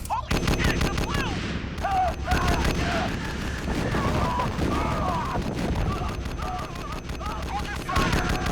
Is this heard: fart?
no